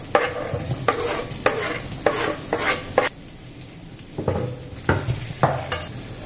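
Green chillies and potatoes frying in a little oil in a pan, with repeated bursts of sizzling as the pieces are stirred and tossed, the crackle rising and falling in short waves, close and alone without voices.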